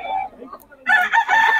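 Chickens clucking and calling up close, a rooster-like crow rising in the second half, loud and busy.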